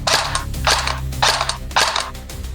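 A CYMA G36c gel blaster fired on semi-automatic with blowback, four sharp, clunky shots at an even rhythm about half a second apart, close and loud over a low motor hum.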